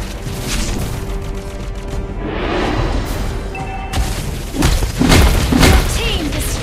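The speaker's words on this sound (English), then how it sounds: "Your team destroyed the turret." Loud booms and crashing impacts as a turret is destroyed in a Hanzo match, dense game effects and music layered throughout, with a heavier burst of impacts toward the end.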